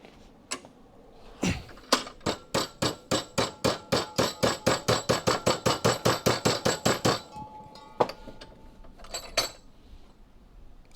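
Rapid series of about twenty metallic hammer blows on a car body tab during restoration of a crew cab Charger, evenly spaced and close, followed by a couple of isolated taps.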